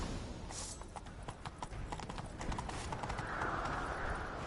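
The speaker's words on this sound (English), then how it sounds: "Grab a horse, we'll chase him down." Horse hooves gallop in a steady clip-clop rhythm across open ground in The Witcher, the beat carrying throughout, with a brief whinny near the start and no talk.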